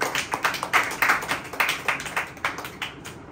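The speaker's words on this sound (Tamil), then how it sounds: "கைத்தட்டி ஆண்டவரை மகிமைப்படுத்த" A church congregation claps hands together in a steady rhythmic beat, roughly three claps per second, sharp and fairly close, running without pause and fading slightly at the end.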